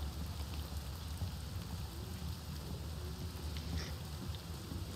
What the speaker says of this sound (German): Oh, es regnet wirklich.